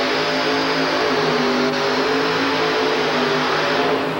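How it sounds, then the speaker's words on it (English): A 2WD pulling truck's engine revs hard and steadily at a 1989 USHRA truck pull in Orlando, Florida, a loud, sustained mechanical roar that holds without a break. "The motor barked to life."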